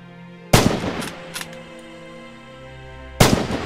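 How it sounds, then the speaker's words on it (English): Two sharp rifle shots from Red Orchestra 2: Heroes of Stalingrad, fired at training targets downrange, about three seconds apart, each a loud crack with a ringing tail, over a low steady hum. "Practice dialing in the range and fire on the targets downrange."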